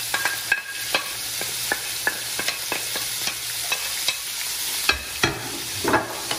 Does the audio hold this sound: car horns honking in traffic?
no